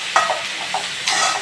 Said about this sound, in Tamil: நம்ம நல்லா வந்து வதக்கி விட்டுடலாம்.